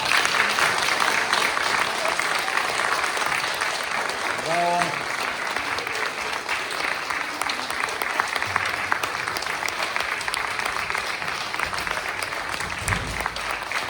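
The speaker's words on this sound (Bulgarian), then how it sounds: "Може би някои от всички от тях за пръв път получават ръкопляскания." Audience clapping at a folk gathering, steady and fairly loud throughout, with a voice briefly heard over it partway through.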